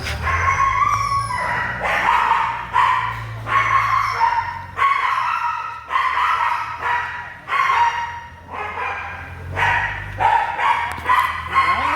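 Dogs bark repeatedly and loudly nearby, sharp yelping barks coming in quick bursts with brief pauses between them.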